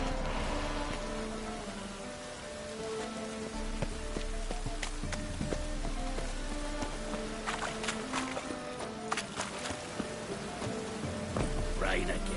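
Steady rain in a Witcher 3 game scene patters across the whole stretch, with scattered louder drops and splashes popping out over a continuous wash of noise.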